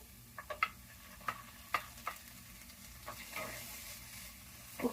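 Green peas, sweet corn and beans frying in a pan for diet fried rice give off a faint steady sizzle, broken by several light clicks and taps of a utensil against the pan.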